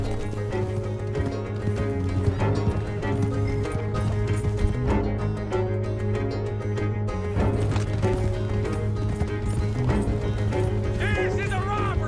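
Horses gallop in Red Dead Redemption 2 with steady hoof clip-clop under a dense musical score, a whinny breaking through near the end.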